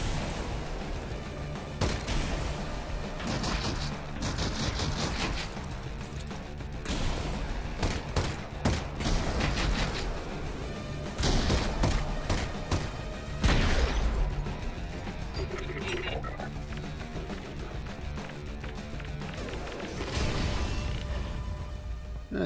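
Video game firefight against the Combine with a hand grenade blast and gunfire: dense, continuous volleys of shots and crashing impacts, loud and busy throughout with no talking.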